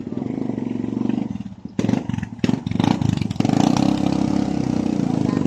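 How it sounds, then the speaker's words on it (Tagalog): A tricycle motorcycle with a stainless steel exhaust pipe, about two years old, drives past with a full, steady engine drone and rough exhaust pulses, briefly dipping and then swelling louder as it comes close. "pakinggan natin yung sounds ng pipe"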